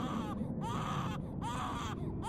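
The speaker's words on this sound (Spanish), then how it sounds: "el silencio era perturbado por el llanto de un bebé mezclado con pequeños gritos de desesperación" A baby cries in repeated wailing bursts with brief gaps between them, faint and eerie over a low background hum in a horror story.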